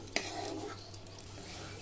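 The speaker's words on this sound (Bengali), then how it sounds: "আমি এই ঘিয়ের মধ্যেই দিয়ে দিলাম কয়েকটা কিশমিশ। এটাকেও ভেজে আমি তুলে নেব।" Raisins fry in hot ghee with a soft, steady sizzle, close and quiet, while a spoon gives one brief sharp clink near the start.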